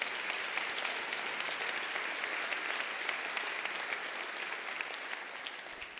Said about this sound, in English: So I think let's give Susie a round of applause.